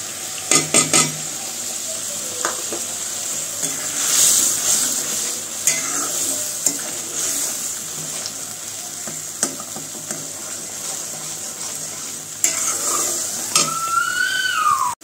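Dry cumin, coriander powder, chili powder and salt fry in a pan while being stirred, making a steady close sizzle with repeated spoon scrapes and knocks against the metal and no talking.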